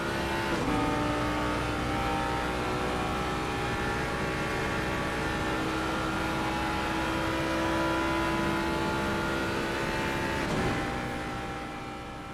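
A Ford Mustang's 5.4-litre engine screams at sustained high revs down Conrod Straight at Bathurst in a racing video game, a loud continuous drone with a brief shift near the end.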